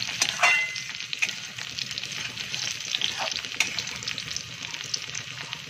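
Green and red chillies fry in oil in a pan with a dense, continuous sizzle, punctuated by small pops and light stirring scrapes, close and fairly loud with no talking.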